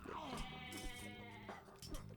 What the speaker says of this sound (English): Get away from my goats.